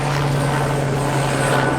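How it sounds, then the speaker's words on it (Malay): Helicopter flying overhead during a flood relief mission in Pahang, a loud continuous rotor drone with a steady low hum, close and without talk. "So ada juga ni helikopter"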